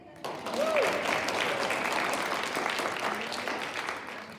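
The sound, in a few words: audience applause and cheering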